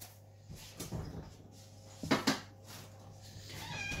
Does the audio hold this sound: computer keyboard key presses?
no